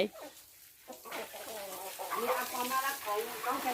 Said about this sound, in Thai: ไก่มาแย่งกล้วยนะคะ